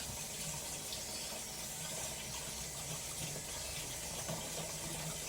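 Water pours steadily into a quarter-filled tank for a small swiftlet nest house, a continuous rushing hiss with no break throughout.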